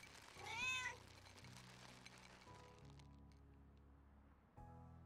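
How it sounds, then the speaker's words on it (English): A pet cat meows once, a clear rising-and-falling cry close by, then the room settles into a low, steady hum from game music in the background. "Oh god, that triggered my cat."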